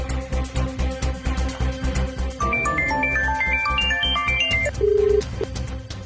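An electronic phone ringtone plays a rising melodic tune over a pulsing background beat, ending on a held tone.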